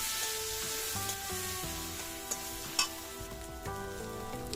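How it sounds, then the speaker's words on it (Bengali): Ground spices with chilli sizzle and hiss steadily as they are stir-fried in a kadai, a continuous close frying sound with a few soft scrapes and knocks over a faint tonal background. "মশলাগুলি ভালো করে কষাতে থাকবো।"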